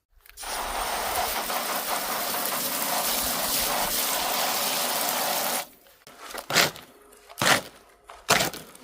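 Water gushes steadily into a dry lime mortar mix for several seconds, then stops, followed by a few short scraping bursts of mixing.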